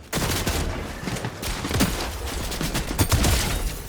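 Rapid submachine gun fire in a video game, loud continuous bursts rattling close by with a few sharper shots near the end.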